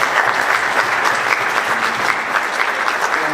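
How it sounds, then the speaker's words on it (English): An audience at a student music concert applauds steadily, a dense, even wash of clapping from many hands that carries through without pause and with no voices rising above it. "Give him a round of applause"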